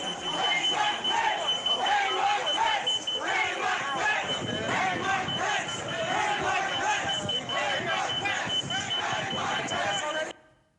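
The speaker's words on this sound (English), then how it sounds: "You can hear the security alarm from the door in the background" At the Capitol, a security door alarm beeps continuously at a steady pitch while a large mob chants and shouts loudly throughout, the crowd noise dense and close until it cuts off abruptly.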